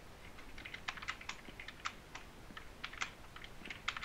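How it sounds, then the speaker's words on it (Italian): Fingers tapping on a computer keyboard during a Minecraft game session, a quick irregular run of light clicking keystrokes, close and fairly quiet, with no voices. "sentite smanettare me con la tastiera"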